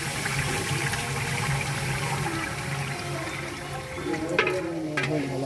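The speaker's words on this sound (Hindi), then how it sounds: "पानी कितना डाल रहे हो?" Water pours steadily into a large pan for cooking rice, a continuous rushing, splashing flow heard up close with some background clatter.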